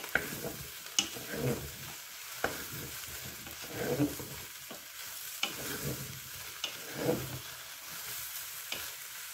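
Mushrooms and bacon lardons frying in a Cookeo multicooker, heard as a soft, fairly faint sizzle broken by repeated stirring scrapes and spoon taps at irregular intervals.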